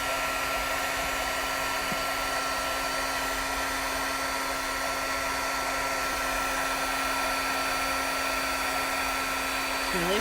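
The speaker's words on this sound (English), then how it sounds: "Got my heat gun here. And I'm going to start heating it up." A heat gun blowing steadily, a loud continuous whooshing hum with an even tone running without pause, close by.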